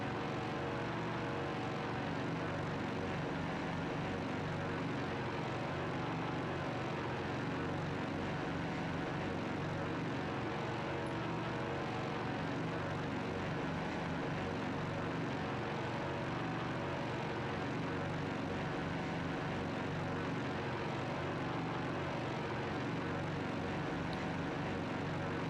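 Propeller engines of a Boeing 247D in Microsoft Flight Simulator 2024 drone in a steady, continuous roar from inside the cockpit throughout, with no change in pitch or loudness.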